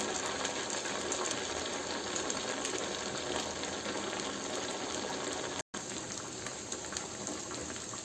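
Sabudana vada sizzling in very hot oil, a steady, dense frying hiss that runs unbroken, with no talk, apart from a split-second dropout.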